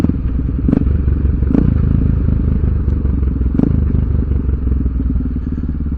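A motorcycle engine drones loud and close as the rider downshifts without the clutch by blipping the throttle, with a steady rumble and a few sharp mechanical clicks at the gear changes.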